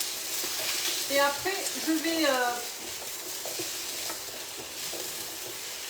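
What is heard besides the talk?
sautéing butternut squash and stirring in a pan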